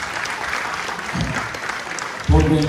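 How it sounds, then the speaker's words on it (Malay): Audience applause at a student theatre festival, clapping that swells loudly near the end after a spoken announcement from a speaker. "Berikan sedikit tepukan kepada bersama."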